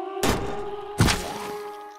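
Two heavy arrow hits thudding into an armadillo in the zombie game Zompiercer, a pair of close, dull impacts about three-quarters of a second apart.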